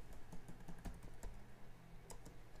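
Rapid, irregular clicks of fingers typing on a computer keyboard, heard close up and steady for a few seconds with no talking.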